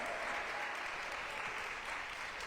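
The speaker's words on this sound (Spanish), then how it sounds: "Denle un aplauso fuerte al Señor, hermano" A church congregation claps loudly and steadily throughout, a dense, continuous wash of applause with no breaks.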